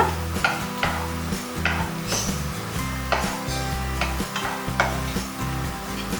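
Chicken, fennel and curry leaves fry in a pan, sizzling steadily. A utensil stirs and scrapes against the metal in repeated clinks and knocks. The sound is close, with no voices.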